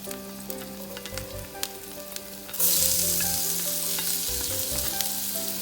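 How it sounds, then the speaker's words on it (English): Shallots, garlic and relish hit a hot pan for pad thai with Gulf shrimp, a steady sizzle that jumps to a louder, brighter hiss partway through as ingredients go in, with light clinks and a faint hum under it. "And then you add your shallots and garlic and relish. So it'll start cooking there."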